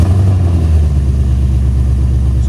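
2021 Ford Mustang GT with a 5.0L V8 and Valvetronic exhaust valves closed, giving a loud, close, steady low rumble that holds throughout without an obvious rise in revs or any talking.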